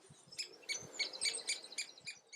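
A great spotted woodpecker gives a series of sharp, repeated call notes in a quick rhythm, fairly faint and alone outdoors.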